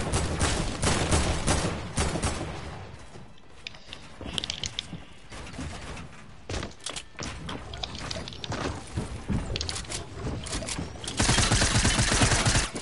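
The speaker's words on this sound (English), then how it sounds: "Why do you get mad when I shoot at you?" Video game gunfire aimed at a player, with rapid volleys of shots that come and go in loud clusters and crackling bursts, and no talk over them.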